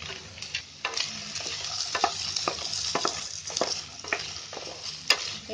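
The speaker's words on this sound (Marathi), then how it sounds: "हे चांगले हलवून आहे ना, चांगला कलर येईपर्यंत ते फ्राय करायचे" Corn kernels stir-fry in a little oil in a wok over a gas flame, a steady soft sizzle broken by regular scraping and clinking strokes of the spatula, close and fairly quiet with no talking.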